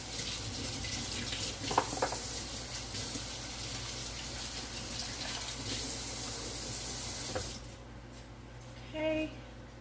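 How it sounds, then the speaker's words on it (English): Tap water running steadily into a sink as hands are washed, a close continuous gush that cuts off near the end, followed by a faint clink. "Wash my hands"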